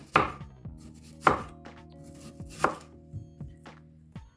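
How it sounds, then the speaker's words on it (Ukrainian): A small onion is sliced into half rings on a cutting board, giving three sharp knife chops followed by a few softer ones, close and isolated against quiet, with no speech. "маємо таку цибулинку, вона невеличка, нарізаємо півкольцями"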